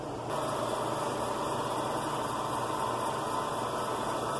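A curly koa pen blank spins on a lathe while being polished, giving a steady, continuous motor hum with a soft rushing whir that holds even from start to finish, with no talking.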